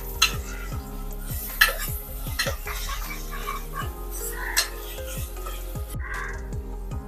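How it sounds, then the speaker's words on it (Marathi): Onion-tomato masala paste being sautéed on full heat, with frequent sharp clinks and scrapes of a spatula against the pan over a low background sizzle, plus crow caws heard outside; no speech. "कांदा आणि टोमॅटो सोबत 1 ते 2 मिनिटांसाठी आता आपल्याला फुल गॅसवरती वाटण चांगलं परतून घ्यायचं आहे।"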